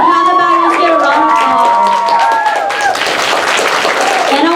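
A crowd at a Hmong culture show applauds the Hmong ladies, the clapping swelling in under a sustained voice or tone before taking over as a loud, dense ovation.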